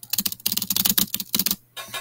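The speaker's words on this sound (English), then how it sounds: "I can't really type that fast" Rapid typing on a computer keyboard, spacebar pressed over and over in quick bursts of close, crisp clacks, with a short pause before the tapping resumes.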